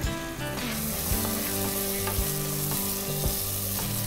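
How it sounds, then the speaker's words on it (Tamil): Ginger garlic paste sautés in a pan for seeraga samba mutton biryani, sizzling loudly and continuously, with a few utensil scrapes and clinks from stirring and no talking. "இஞ்சி பூண்டு பேஸ்ட் போட்டு ஒரு 2 மினிட்ஸ் வந்து நம்ம லைட்டாக நம்ம சாத்தே பண்ணிடணும்"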